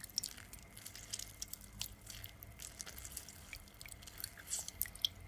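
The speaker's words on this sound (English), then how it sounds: "So what I'm doing now, I'm squeezing my lemon" Lemon juice dripping through a kitchen strainer while making cucumber juice, a quiet, irregular patter of small drips over a soft background hiss, with no talking.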